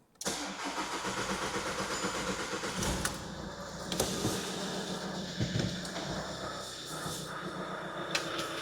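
A VW Caddy engine cranks and catches after a full service, then settles into a steady mid-pitched idle with a few sharper clanks, recorded close by indoors in a workshop.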